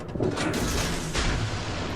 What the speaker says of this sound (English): You can still see gunfire coming from the same location.